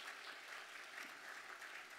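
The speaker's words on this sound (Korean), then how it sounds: "박수로 축복해 주시기 바랍니다." Church congregation applauding after a wedding announcement at a Sunday service, a steady wash of clapping held at a constant faint level throughout.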